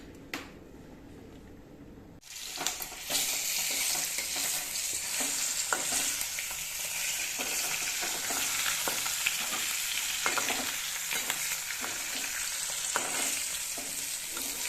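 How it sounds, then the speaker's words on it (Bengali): Fish fries in a pan with oil, a loud, steady close sizzle that bursts in after a quiet start, broken by repeated stirring and spatula scrapes, no talking. "মাছগুলি আমি এখন ভেজে নিলাম"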